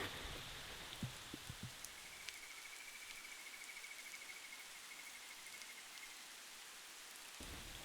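Rain falls steadily outdoors as a soft, even hiss with occasional nearer drips, while a faint insect chirp runs through the middle.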